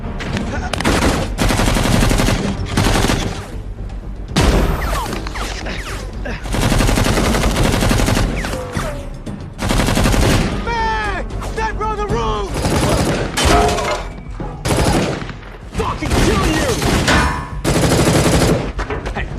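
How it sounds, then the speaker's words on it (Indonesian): A shootout in the 2021 action film Deadlock: sustained, loud automatic gunfire in long dense bursts separated by brief gaps, with shouted voices mixed in. "mereka tiba-tiba dihadang oleh anak buah Ronald yang kemudian terjadilah baku tembak"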